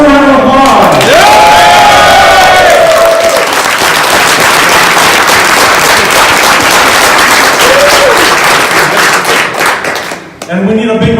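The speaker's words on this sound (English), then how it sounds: "Everyone, one more round of applause." Loud crowd applause and cheering at the Legend of the Five Rings World Championship 2018 event, sustained dense clapping with whoops, a voice briefly heard over it at the start, fading near the end.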